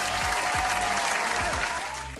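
Dense applause from a crowd, steady and close, with a continuous wash of many hands clapping that eases off slightly toward the end, with no voices over it.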